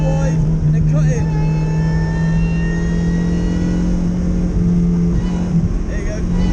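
A supercharged Vauxhall VX220 accelerates hard on the Nürburgring, its engine droning loudly and steadily from inside the cabin with a rising whine, a voice speaking over it.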